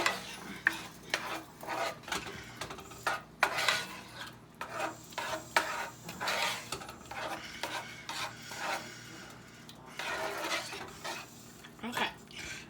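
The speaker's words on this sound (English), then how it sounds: "I'm going to stir that up a little bit." Spoon stirring salsa in a pan gives steady rasping scrapes in an uneven rhythm, loud and close, with no talk over it.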